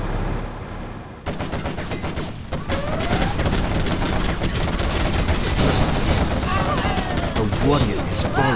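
Quad cannon gunfire in the video game Command & Conquer: Generals Zero Hour: loud, continuous rapid-fire bursts with thuds and explosions, sustained throughout, with short game voice lines spoken over the shooting.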